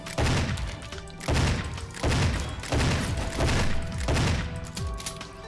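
In Goldeneye: Source, a game remake of Goldeneye 007, the Moonraker laser fires in repeated loud bursts. The rapid shots come in roughly regular waves of about a second each, with short gaps between.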